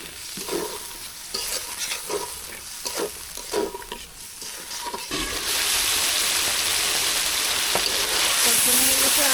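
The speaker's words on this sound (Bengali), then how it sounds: "আলুটা কষানোর জন্য দিয়ে দেবো সামান্য একটু পানি।" Potatoes being sautéed with a little water in a pan: stirring scrapes in the first half give way to a loud, steady sizzle and bubbling close by.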